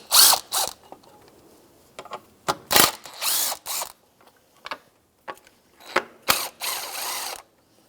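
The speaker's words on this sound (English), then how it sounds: "Loosen up the alternator back bracket to pull this out of the way." Ratchet and socket loosening an alternator bracket bolt on a 2004-2009 Subaru Outback: short bursts of sharp clicking ratchet strokes in irregular groups, close and loud, separated by quiet gaps, no talk.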